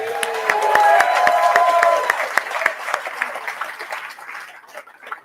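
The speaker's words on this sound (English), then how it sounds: "Can we have another round of applause for that?" Applause after a speech at a launch party in Newcastle: a crowd claps with voices singing or cheering over it at first, then the clapping thins out and fades to scattered claps.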